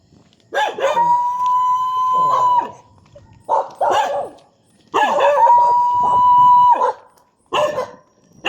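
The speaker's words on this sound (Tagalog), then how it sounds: "Oras-oras na tahol na ang dami." Several dogs bark and howl nearby in repeated loud bursts, long drawn-out howls mixed with sharp yips, separated by brief silences.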